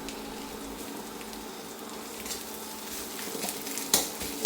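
Cumin paste, onions and green chilies stirred together in a frying pan, producing a soft, steady sizzle with light scraping and a sharp utensil clink near the end.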